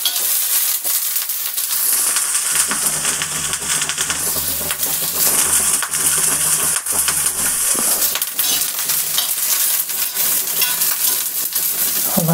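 Onions frying in a pan for a vegetarian high-protein meal, with a steady sizzle and crackle running continuously and fairly close, with faint stirring scrapes and no talking.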